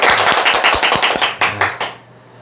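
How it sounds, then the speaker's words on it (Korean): A small group claps for about two seconds, a quick scattered patter of hands that thins out into a few final claps before stopping. "박수 한번 쳐주시죠"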